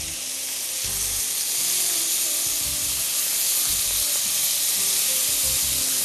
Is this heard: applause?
no